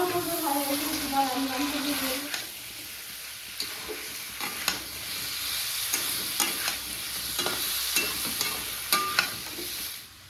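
Boiled taro going into a pan of fried shrimp, a bright continuous sizzle with scattered clicks and scrapes of stirring, and a voice talking briefly at the start.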